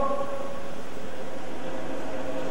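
A DIP101 lift pump runs with air trapped in its discharge, giving a loud, steady mechanical roar with a faint tonal whine and rumbling vibration throughout.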